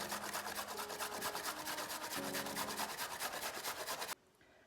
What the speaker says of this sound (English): I've got 3 large carrots. I'm going to grate these